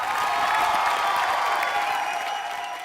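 Steady, dense applause from a TV studio audience for Divyang on an Indian entertainment show, loud, continuous clapping that holds evenly throughout, with a faint crowd murmur underneath.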